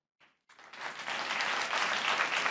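Studio audience on the Geo News comedy talk show Hasna Mana Hai breaks into applause after a brief tap, the clapping swelling quickly into a dense, sustained round that fills the room to the end.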